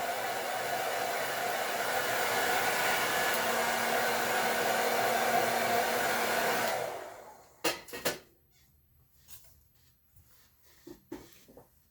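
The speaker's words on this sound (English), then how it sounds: "So I'm gonna make sure to blow dry it just a little bit longer." A handheld hair dryer blows steadily and loudly on shimmer paste over a craft project for about seven seconds, then shuts off, leaving a few soft clicks and handling knocks.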